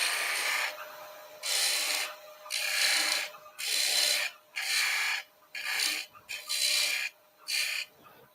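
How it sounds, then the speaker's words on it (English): Parting tool cutting into a small bur oak workpiece spinning on a woodturning lathe, heard as a series of loud raspy scraping bursts separated by short pauses, close up with no talking. "I'm just going to part in up here."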